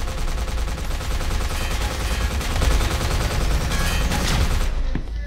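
Sustained gunfire in the video game Consortium, a dense continuous stream of rapid shots at steady loudness, heard alone without talk.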